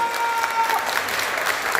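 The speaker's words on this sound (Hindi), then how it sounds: "सारे लोग ताली बजाएंगे, जोरदार ताली" Loud applause rises from the audience at a Hindi poetry recital, a kavi sammelan in Sitapur, with dense steady clapping and faint crowd voices mixed underneath.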